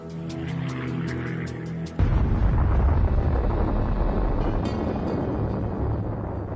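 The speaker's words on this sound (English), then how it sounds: "Lester Tenney sees the explosion" The atomic bomb explosion over Nagasaki arrives as an abrupt deep boom followed by a sustained, loud, rumbling roar that fills several seconds. Faint musical tones sound just before it.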